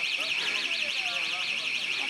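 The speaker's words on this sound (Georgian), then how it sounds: "როგორი ხმაქვს განგაშის სიგნალს" A high, warbling electronic alarm signal at a border zone sounds continuously and loudly, its pitch sweeping up and down in a fast, regular cycle.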